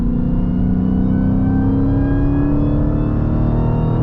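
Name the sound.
Dodge Challenger SRT Demon supercharged engine revving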